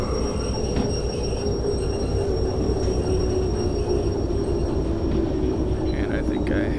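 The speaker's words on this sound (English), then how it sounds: "The train brake." A freight train in the Derail Valley simulator brakes with a steady, loud rumble of wheels on rail and a high, thin squeal running the whole time, continuous and close.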